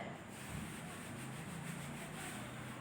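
A duster rubbing a classroom board clean during a physics lesson, a steady, continuous scrubbing swish that stays even and fairly quiet throughout, with no talking.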